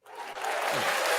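A short canned burst of applause from a soundboard swells within a fraction of a second into dense, even clapping with faint crowd cheer, lasting barely over a second.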